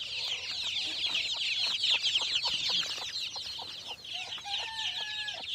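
Chickens cluck and chatter continuously, many birds close by, with high-pitched peeps and squawks layered over one another.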